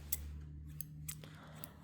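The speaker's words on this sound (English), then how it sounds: "We also have the operating scissors." Surgical operating scissors, a basic steel instrument, give a few sharp, brief metallic snips and clicks close by over a low steady hum, with no talk.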